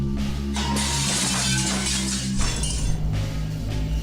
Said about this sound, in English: The sound of the glass breaking resonates from behind me.